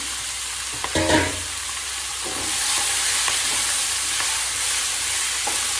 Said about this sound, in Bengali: সুন্দর নাড়াচাড়া করে একটু আলুর সঙ্গে মিশিয়ে দিয়ে ঢাকা দিয়ে দেবো